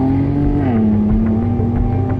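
A Ford Bronco Raptor engine revs hard during off-road driving, a loud continuous drone whose pitch dips briefly and then holds steady close by, with no voices.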